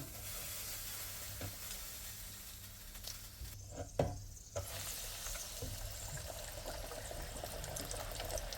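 Salmon fries in a deep fryer with a faint, continuous bubbling hiss, briefly dipping quiet partway through before the steady sizzle resumes alone.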